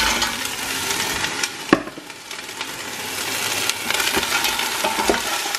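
Crabs tossed into a pan of chili, garlic and ginger, sizzling steadily while they are stirred, with wooden scraping and knocks against the pan close by and a single brief spoken word.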